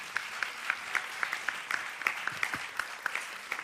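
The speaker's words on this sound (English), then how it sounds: "A round of applause for Oda," Audience clapping for a presenter at a Girls in ICT Day celebration in Rwanda, a moderate, fairly sparse applause with distinct individual claps standing out over a soft background wash.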